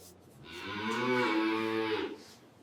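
A cow on a dairy farm that supplies milk for cheese gives one long, loud, drawn-out moo lasting over a second, close by and alone.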